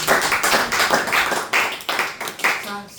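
A church congregation claps together in acclaim of the word of God, loud rhythmic bursts of hand claps in a reverberant hall with voices mixed in.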